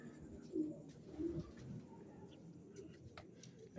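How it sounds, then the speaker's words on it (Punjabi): Pigeons coo in low, soft, repeated bursts among a loose flock kept for sale, with a steady murmur of background activity around them. "ਇੱਧਰ ਵੀ ਹੈਗੇ ਆ ਕਬੂਤਰ ਆ ਦੇ ਇੱਧਰ ਵੀ"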